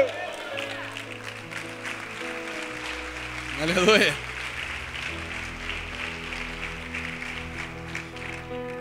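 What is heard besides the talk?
audience applause in church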